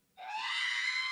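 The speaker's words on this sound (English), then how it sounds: "That's when you kill R2-D2 in Lego Star Wars." A high, piercing scream from R2-D2 dying in the Lego Star Wars video game, a sudden sustained shrill wail lasting about a second, loud and alone without talk.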